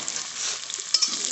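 Onion and garlic frying in a pan for masala dosa filling, a steady, fairly faint sizzle with small crackles and a couple of brief sharper pops.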